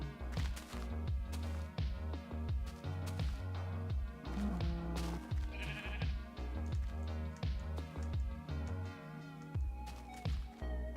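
Sheep in a Minecraft-style video game bleat repeatedly in short nasal cries, several overlapping at close range, with rhythmic background music running underneath.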